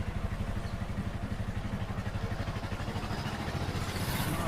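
A motorcycle engine chugs with a steady, rapid low pulse while riding along a town lane, continuous and fairly close, with rushing wind and no talking.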